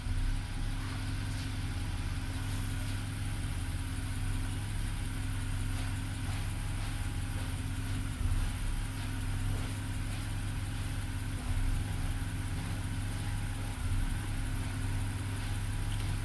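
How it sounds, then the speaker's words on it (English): A 2010 BMW 328i engine idles with a misfire, giving a steady low mechanical drone that runs continuously at close range with slight irregular pulses, no talk over it. "Car is running."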